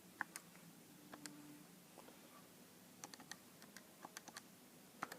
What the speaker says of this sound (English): I'll type that in the calculator